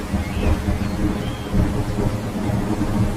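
Heavy rain pours steadily in a cartoon thunderstorm, with deep thunder rumbling throughout and swelling again around the middle, loud and continuous.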